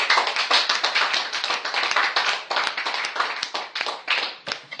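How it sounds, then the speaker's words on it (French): A church congregation claps in acclamation during prayers, many hands striking in a loud, dense, continuous burst of sharp claps close by, with no talking over it. "Est-ce que tu peux donner une acclamation au Seigneur?"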